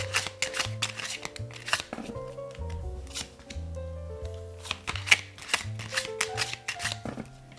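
Tarot cards being drawn and handled, a series of crisp shuffles, riffles and soft slaps of card stock, close and rhythmic, under gentle background music.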